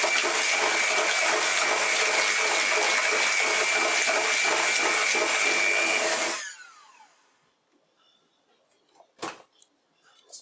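Electric mixer whirring steadily through egg, butter and creamed sugar for about six seconds, then winding down and stopping, followed by a couple of faint clinks.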